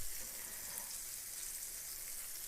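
Chicken frying in a pan as it browns gives a steady, even hiss of sizzling oil, close up and constant throughout, with no talking over it.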